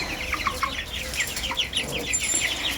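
Many small broiler chicks peep and chirp continuously in high, overlapping calls, fairly close, with a low background hum.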